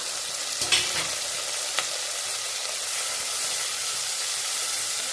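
Steady sizzle of onions sautéing in oil, with a couple of brief scraping stirs near the start, constant and close, with no voices.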